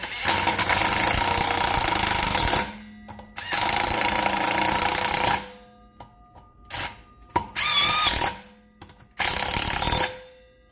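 Air impact tool running Loctite-coated bolts into a Harley Dyna rear wheel, several loud buzzing bursts a few seconds long with short ratcheting rattles between them, close up and without talking.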